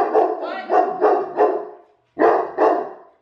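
Dogs barking at close range, loud and sharp: four evenly spaced barks, a short pause, then two more, with no talking.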